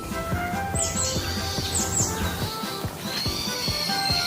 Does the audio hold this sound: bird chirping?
yes